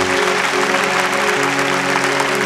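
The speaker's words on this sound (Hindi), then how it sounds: "तो जोरदार तालियों के साथ स्वागत बा भोजपुरी फिल्म के सुपरस्टार निर्देशक राजकुमार आर" Loud applause greets a Bhojpuri film director arriving as a judge on a TV dance competition show, a continuous wash of clapping with music tones running underneath.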